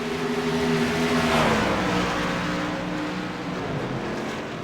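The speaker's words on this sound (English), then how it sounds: "As our first couple cars should be coming around to clock those times" Truck series race vehicles circling the track at Auto Club, engines droning loudly with rising and falling revs as they sweep past, then fading slightly; no talking.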